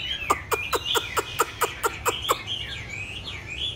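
A caged pet bird, a chuyền (tit) kept at home, sings a run of about nine sharp, evenly spaced chirps over a thin warbling line, then carries on warbling softly on its own, close by.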